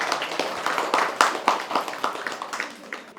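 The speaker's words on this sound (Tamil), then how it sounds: "ஒரு மிகப்பெரிய கைத்தட்டல் கொடுக்கலாம்" Audience clapping at a Murugan exhibition in Kanchipuram, a dense run of hand claps rising and falling in waves over a few seconds, fairly close and without talk.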